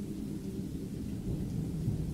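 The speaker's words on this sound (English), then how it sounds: "The rumbling of the thunder was unaccompanied by lightning, nor even moonlight" Low rumbling thunder of an approaching storm on a dark night near a small home, a steady distant roll with soft rain-like hiss, heard alone.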